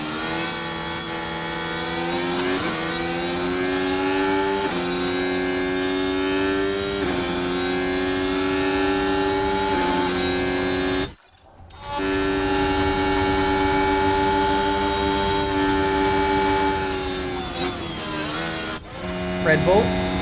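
Ferrari Formula 1 car engine in the racing game F1 Manager 23, a high-pitched whining V6 rising and falling through gear changes, with a brief cut near the middle and voices over it.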